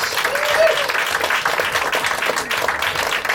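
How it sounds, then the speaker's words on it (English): A big round of applause from an audience, dense and steady clapping that holds at full loudness for the whole few seconds, close and lively. "Give her a big round of applause."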